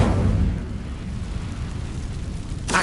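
An Incendio fire spell cast in Hogwarts Legacy, a deep whooshing burst of flame at the start that settles into a low rumbling roar, with another sharp burst near the end.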